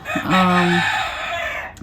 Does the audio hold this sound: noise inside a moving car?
no